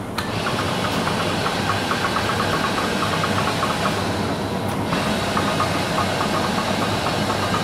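A Monarch heavy duty lathe, model NN5 with a 62 by 204 inch capacity, runs its carriage on rapid traverse down the bed, giving a loud, steady mechanical drone with a faint whine that continues throughout, with no voices.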